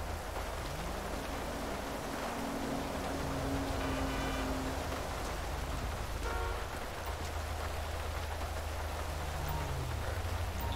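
Steady rain pours down outdoors during a police traffic stop, a dense, even hiss with a low vehicle hum and faint background tones underneath.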